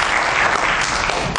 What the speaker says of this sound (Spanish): Vamos a recibir a Francis con un fuerte aplauso.